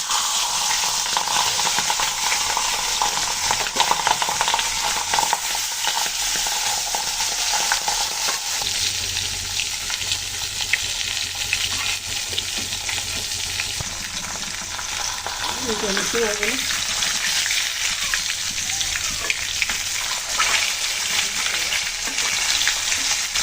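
Pangas fish fries in plenty of hot oil with salt and turmeric, giving a loud, continuous crackling sizzle that shifts now and then as the pieces are stirred and turned.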